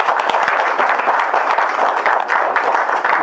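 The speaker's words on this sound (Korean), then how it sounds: "박수 부탁드립니다." An audience at a founding general assembly in a large auditorium breaks into sustained applause, dense clapping from a crowd, steady and fairly loud for the whole stretch.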